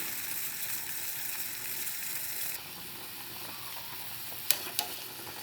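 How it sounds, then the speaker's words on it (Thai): Tilapia simmers in a turmeric soup, giving a faint continuous bubbling hiss close by, with two small clicks of a utensil near the end. "ลงแล้วก็ไม่ต้องคน ปล่อยไว้อย่างนั้นแหละ ให้เดือดจนปลาสุก"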